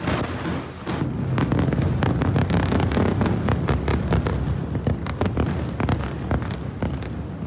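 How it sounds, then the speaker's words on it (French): Explosions from a bombardment on Beirut at sunset: a rapid barrage of loud, sharp blasts and cracks, dense and overlapping, with a constant rumble between the bursts. "Les explosions retentissent."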